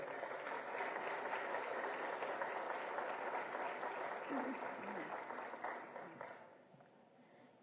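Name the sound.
audience applause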